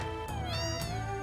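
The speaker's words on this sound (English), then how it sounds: "Get out of the way, you silly cat." A cat in Final Fantasy 7 meows loudly and close, drawing out a single wavering cry over steady game background sound.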